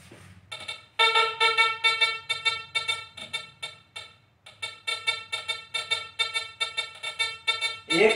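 A Makro CF77 metal detector beeps as it picks up a gold ring: loud, rhythmic electronic pulses that begin after a brief pause, stop for a moment midway, then resume, with no voices.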